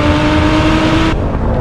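A Lotus sports car engine revs hard near the red line, a loud, sustained high-pitched roar that holds steady and then drops off abruptly as the revs cut near the end.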